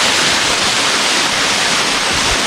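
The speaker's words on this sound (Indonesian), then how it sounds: "Coba kita mau dekati dulu air terjunnya." A waterfall, the Lengang falls in Maros, South Sulawesi, pours in a loud, steady rush of broadband water noise heard close up, with no voices over it.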